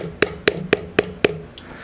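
A chisel is struck five times in quick, even succession into sappy wood that had long been stored in rafters, each blow a sharp, close knock about a quarter second apart.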